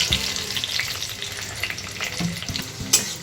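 A whole tomato and a torn bay leaf frying in hot oil, making a continuous close sizzle broken by a few stirring knocks, with no talking.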